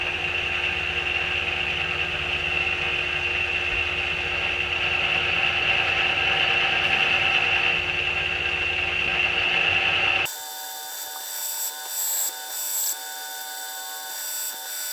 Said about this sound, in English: so we'll finish it up here on the drill press